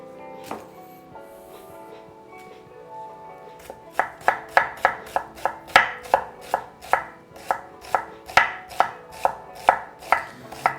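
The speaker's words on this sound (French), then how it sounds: "Donc ça, c'est ciseler un oignon." Knife finely chopping an onion on a board, a steady run of crisp, close rhythmic taps after a few quieter early cuts.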